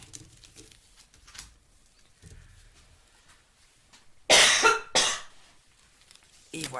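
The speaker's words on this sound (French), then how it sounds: "Je tousse, pardon." Coughing: two loud, sharp coughs in quick succession, close to the microphone, followed by a third starting at the end, after quiet low murmuring and faint background noise.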